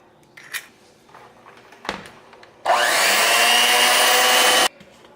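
An electric mixer beats low carb blueberry muffin batter in one loud, steady two-second whir, preceded by a few soft bowl knocks and clatters.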